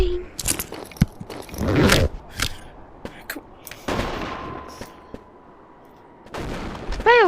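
Fireworks go off in the video game Animal Company as a burst of sharp pops, crackles and whooshes, followed by a quieter stretch and then rising whistling squeals near the end.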